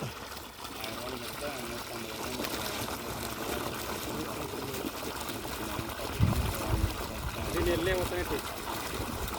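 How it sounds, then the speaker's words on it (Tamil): Water pumped by a 1500W BLDC motor from a 300-foot bore pours into a farm irrigation channel in Erode district, a constant splashing rush with someone talking throughout. "வாய்க்காவுக்கு நல்லா தண்ணி ஏறி போய் பாஞ்சிக்கிட்டு இருக்கு"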